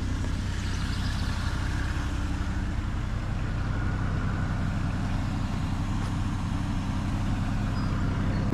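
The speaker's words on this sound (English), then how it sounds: "let you hear what the exhaust sounds like a little bit" A Porsche Panamera 4 engine idles steadily with a low, even exhaust rumble, close by and constant throughout.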